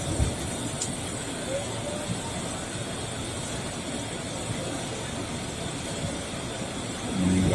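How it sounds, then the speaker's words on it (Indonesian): A KRL Commuterline electric train pulling away from Manggarai station, heard from inside the carriage as a constant broadband rumble and hiss of motor and wheels, steady throughout and swelling slightly toward the end. "Kereta sudah berjalan kembali sekarang sobat"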